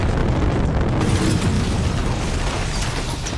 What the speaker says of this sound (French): la bombe laissée par le chacal explosa instantanément